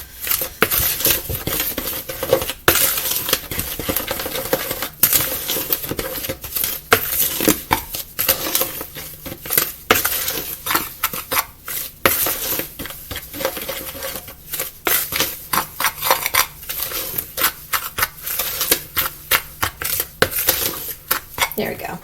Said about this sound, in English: mixing it all together